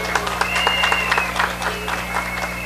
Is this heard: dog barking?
no